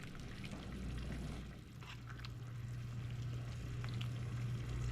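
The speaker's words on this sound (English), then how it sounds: "So just going to let that simmer and thicken." Pineapple chicken sauce thickened with a cornstarch slurry simmers in a pan, giving a steady, close bubbling sizzle with no pauses.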